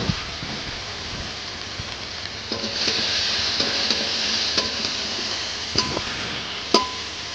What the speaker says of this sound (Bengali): তো এখন আমি উচ্ছাগুলো কড়াতে দিয়ে দিচ্ছি।